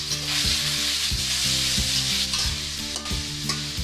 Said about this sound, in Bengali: মেরিনেট করা চিকেনটা দিয়ে দিচ্ছি